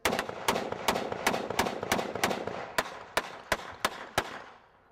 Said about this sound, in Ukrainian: На знак пошани стріляють сальвами з рушниць.